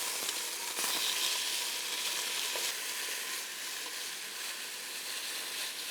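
Pieces for an anolini in brodo pasta soup brown in a hot pan with a loud, steady sizzle and hiss that runs throughout, close by and with no one talking over it.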